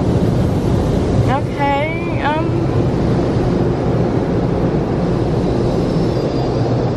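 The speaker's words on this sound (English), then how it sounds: "what kind of car wash is it? This shit is so scary." An automatic car wash runs over a car, heard from inside as a steady, loud whoosh of water spray and air, while someone speaks and exclaims briefly early on.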